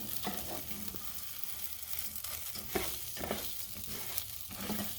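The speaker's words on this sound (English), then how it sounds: "I want to get this butter mixed in really well." Butter stirred into rice and beef cooking in a pan, a steady close sizzle broken by scraping spoon strokes and a few sharper knocks, with no talking.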